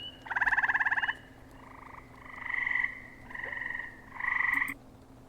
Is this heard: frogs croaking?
yes